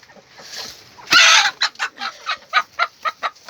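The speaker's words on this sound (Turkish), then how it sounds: "İki tavuk burada işte. Damızlık tavuklar burada." A breeding hen in a coop lets out a loud squawk, then clucks in a quick, regular series of sharp bursts, close up.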